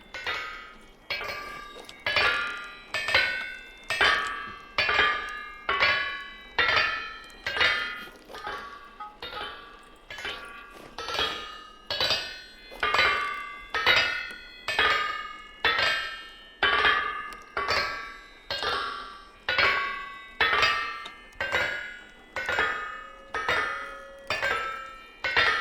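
Blister steel is hammered on an iron anvil in a video game, a long run of evenly spaced ringing metallic clangs, each strike bright and resonant with a short decay, repeating steadily at about one per second.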